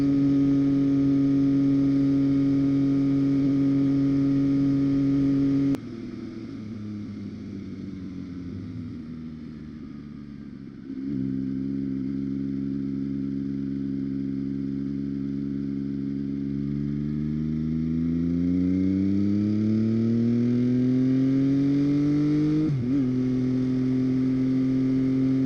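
A street motorcycle engine drones loudly and steadily while riding, drops to a lower idle-like hum, then climbs in pitch as it accelerates before a quick shift near the end.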